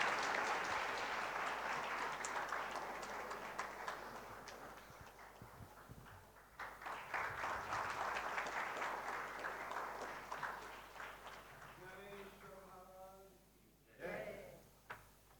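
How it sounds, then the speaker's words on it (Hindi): Loud applause from an audience at a foundation day award ceremony: sustained, dense clapping that thins out toward the end. A voice speaks briefly near the close. "एक बार जोरदार तालियां, जोरदार तालियों के साथ।"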